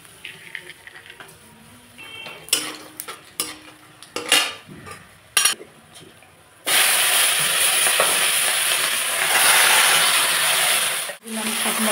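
Black cumin seeds and dried lentil dumplings drop into hot oil for a bottle gourd shoot curry and set off a loud, steady sizzle, after several clinks and scrapes of utensils against the pan.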